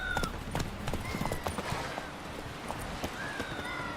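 The horse Roach gallops in the video game Witcher 3, with a rhythmic clip-clop of hooves running steadily under faint game ambience and occasional tonal sounds.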